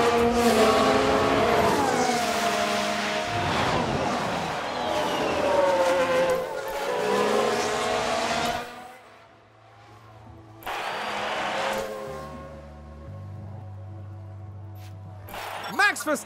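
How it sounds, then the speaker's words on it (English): F1 Manager 2022 race cars cross the finish line at the Netherlands Grand Prix. Loud, high-revving engines whine and sweep in pitch as the cars pass, then fade to quieter tones before a final engine burst. "Max Verstappen, over the finish line, and today's winner"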